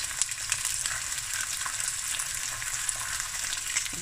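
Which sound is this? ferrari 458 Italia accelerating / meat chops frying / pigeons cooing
meat chops frying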